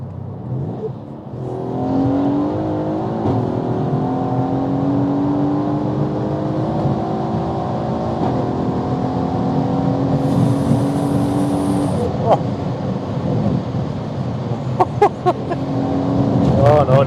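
A heavily modified Mercedes C63 AMG engine drones in a long, steady, rising pull under acceleration and then winds down, loud and close, with a few sharp crackles near the end and talk over parts of it.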